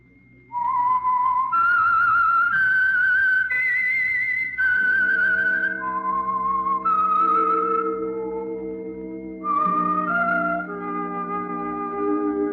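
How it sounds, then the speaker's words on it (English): The whistled theme of the radio program The Whistler: a clear melody rises and falls in steady sustained notes, joined partway through by a low held orchestral accompaniment. "That whistle is your signal"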